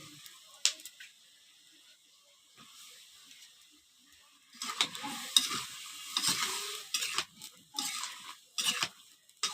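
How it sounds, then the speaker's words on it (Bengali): Eggplant curry being sautéed in a pan, quiet at first, then close spoon scraping and stirring with soft sizzling in irregular bursts, without talk. "এখন কষতে দিয়েছি, কষু।"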